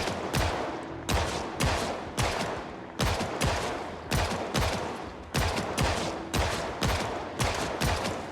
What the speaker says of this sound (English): Let's try out the pistol.